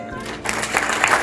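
Applause from a crowd of devotees at a temple chariot procession, a dense steady clapping that swells after a brief quieter start and stays loud to the end.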